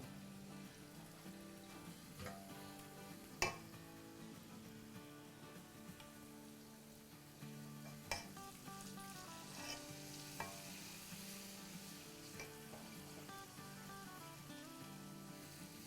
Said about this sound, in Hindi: इसको हम आराम से 5 मिनट तक पकाएंगे